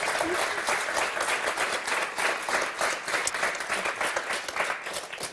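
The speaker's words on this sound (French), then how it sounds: "on ne vous a pas encore applaudi" Studio audience on the French game show Motus breaks into steady, dense applause that stays loud and unbroken from start to finish, with a faint voice beneath.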